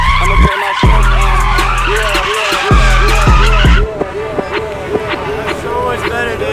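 Tesla car drifting at a takeover car meet, with loud, sustained tire skidding and squealing that surges in long waves over a low motor drone, close by, with crowd voices mixed in.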